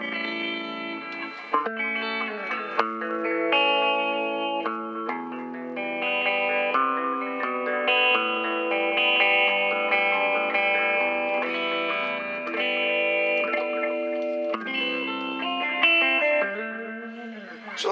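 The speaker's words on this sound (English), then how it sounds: "So that's with the echo on" Electric guitar played through a 1980s Award Session Rockette 30-watt solid-state amp with echo on and a little reverb, sustained notes and chords ringing continuously with repeating echo tails.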